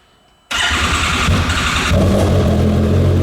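An Arctic Cat Wildcat XX side-by-side on a trailer suddenly starts after a short silence, its engine catching loudly and settling into a close, steady running roar that climbs a little near the end.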